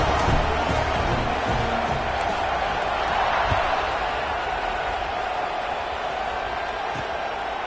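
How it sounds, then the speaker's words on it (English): A football stadium crowd at a Mizzou game roars steadily after a scoring drive, a loud, continuous wash of cheering with no clear breaks. "this crowd is feeling themselves after that last drive"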